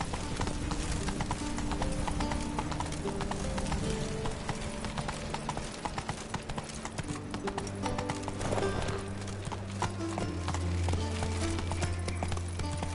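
Roach the horse galloping in The Witcher 3, a rapid, continuous clip-clop of hoofbeats that stays loud and steady throughout, set against game ambience and low musical tones.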